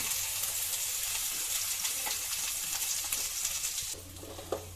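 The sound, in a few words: ground gongura chutney frying lightly in tempering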